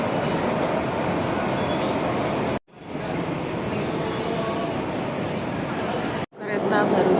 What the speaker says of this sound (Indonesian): Kereta baru saja pergi.